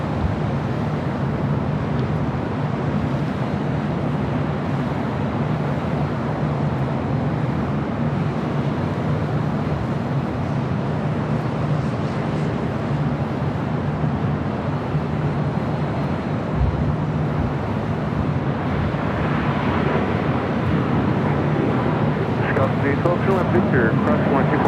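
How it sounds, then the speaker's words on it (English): An Asiana Airlines Airbus A380 from Seoul comes in to land at LAX with its gear down, a steady low jet rumble sustained throughout at moderate distance while voices talk over it. "Gear going down on the 380. Again, this is Asiana flight 204 coming up from Seoul."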